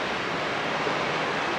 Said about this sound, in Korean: 파도 소리 좋지 않나요?